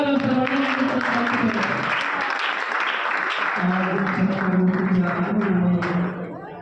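An audience applauds at a felicitation for Dr. Arpana Tope on her Harvard international radiology fellowship. The clapping is sustained and mixed with a voice talking over it, then fades slightly at the end.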